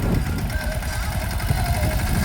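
A tractor engine running steadily at idle, a low rumbling chug close by that continues throughout without a break.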